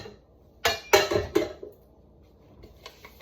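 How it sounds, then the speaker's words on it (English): A metal cooking pan lifted out and handled in a kitchen, giving a few sharp clanks and clinks in quick succession, then quieter light knocks, no talking. "let me get out my pan"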